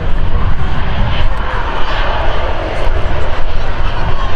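An Airbus A380 airliner at Manchester Airport roars with a loud, steady, broadband engine rumble that fills the whole moment close by, swelling slightly without pause.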